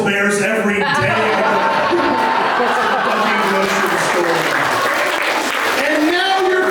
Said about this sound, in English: And now you're clapping for me!